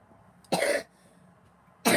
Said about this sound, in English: it's just that that whole fall going into winter cough that a lot of us seem to get